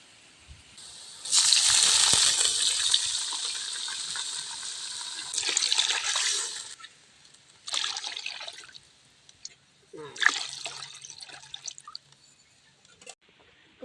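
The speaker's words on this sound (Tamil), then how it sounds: "ரெண்டு டம்ளர் ரவைக்கு 4 டம்ளர் தண்ணி வைக்கிறேன்." Water poured into a cooking pan for wheat rava upma, several loud gushing bursts with short pauses between, splashing and trickling close by.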